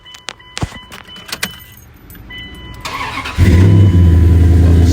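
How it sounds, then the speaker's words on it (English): Dodge Dakota R/T pickup with a Flowmaster Super 44 exhaust starts up: keys jangle and click first, then a brief crank before the engine catches into a loud, steady, deep idle rumble close by. "Let me show you how the Dodge Dakota sounds."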